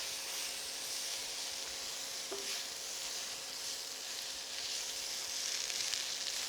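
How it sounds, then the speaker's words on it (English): Spinach leaves sizzling in a hot pan as they are added a little at a time and tossed until wilted, a steady close hiss of frying with a faint stir, no talk. "I'm going to start adding spinach a little bit at a time and just tossing it around until it wilts."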